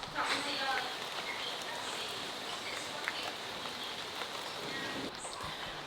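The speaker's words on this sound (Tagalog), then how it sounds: "ulan dito" Soft, steady rainfall outdoors in Sydney, a faint broadband hiss of drops continuing throughout, quiet and even, with a few light taps and no loud bursts.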